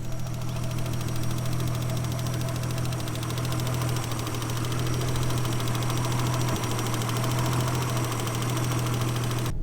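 A car sits idling with its engine running just after clutch work, giving a steady, loud, close rumble with a constant low hum and a faint mechanical ticking throughout, and no voices over it.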